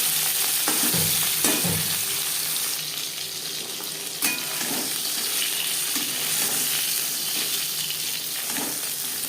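Pieces of katla fish frying in a pan, a steady close sizzle with occasional bumps and scrapes as the pieces are turned, no voices.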